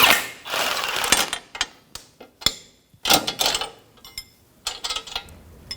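An 18mm socket and wrench loosening a nut on the front suspension of a 2007-2017 Jeep Patriot 2.4L: close bursts of rapid ratcheting clicks and metallic clatter in short irregular runs.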